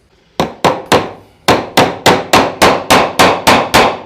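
Hammer driving a thin-pointed rustic decorative tack into recycled pallet wood, a dozen sharp close blows in a steady rhythm after a short hesitation near the start, loud and alone.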